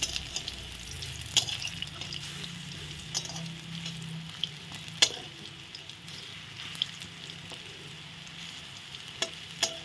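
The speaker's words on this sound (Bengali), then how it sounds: "এখন এই পাশটা আস্তে আস্তে ভাজা হতে হতে আমি ফোড়নটা রেডি করে নিচ্ছি।" Banana flower fritters sizzle steadily in hot oil with faint stirring and occasional utensil clicks, a continuous close frying hiss without talk.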